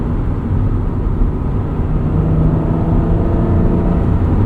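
A 1996 Acura NSX-T with a V6 engine and five-speed manual gearbox drones steadily while driving, a loud, constant low engine note with road and wind noise and no talking.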